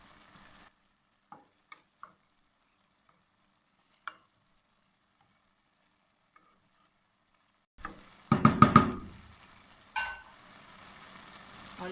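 Chopped green chillies are stirred into frying Shinwari mutton pulao in a pot. After near silence broken by a few faint knocks, a loud, close burst of scraping and sizzling stirring follows, with one more short stir near the end.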